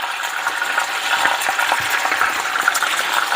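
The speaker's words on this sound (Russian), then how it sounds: "Так, пожарю курочку" Chicken fries in a pan with a steady, bright, crackling sizzle, close and even throughout, with a few soft clicks and scrapes now and then.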